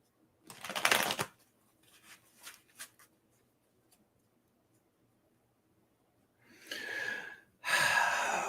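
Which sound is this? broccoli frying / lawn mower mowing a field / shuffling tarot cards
shuffling tarot cards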